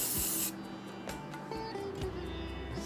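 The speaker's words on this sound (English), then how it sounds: "I could use a little hairspray here." Hairspray misted onto a hairstyle for a Kathak dancer, one short close hiss of spray at the start, then quieter rubbing and handling sounds.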